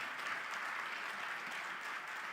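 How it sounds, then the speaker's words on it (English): Audience applause for athletes at an awards event, a steady wash of clapping from a crowd, even and sustained throughout, moderately distant with no talk. "Can I get a round of applause for the athletes?"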